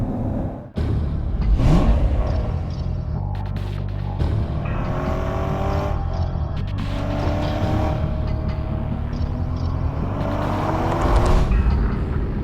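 A 2014 Chevrolet Corvette Stingray Z51 engine on the move, loud and close, revving up and down through several gear changes, with a brief dip in level early on and a rising run toward the end.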